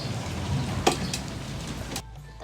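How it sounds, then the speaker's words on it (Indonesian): Tofu frying in a pan hisses with a dense, close sizzle, broken by a brief utensil clatter partway through before the sound drops off sharply near the end. "Kita goreng tahunya dulu."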